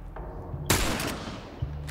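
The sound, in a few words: gunshot in The Last of Us video game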